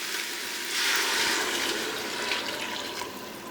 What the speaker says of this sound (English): I'm going to go in with a jug full of boiling water.